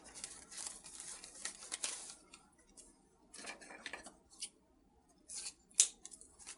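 Scissors snip through ribbon for a rose gold deco mesh wreath, a run of close, crisp cuts and rustles in irregular bursts with quiet gaps, plus one sharp louder snip near the end.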